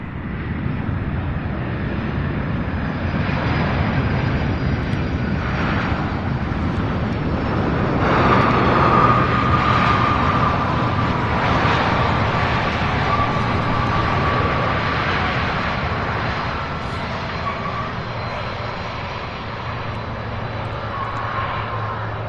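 Jet airliner landing at Louisville International Airport, a steady broad engine roar held throughout with a slight swell midway, fairly loud and close, with no voices.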